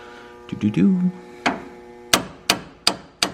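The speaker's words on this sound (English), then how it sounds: "pushing it in with the hammer like this" Four sharp hammer strikes ring out at a steady pace, each a bright metallic knock, hammering a part into place while replacing a Duramax LBZ truck's steering gear box, after a short burst of voiced, humming vocal sound.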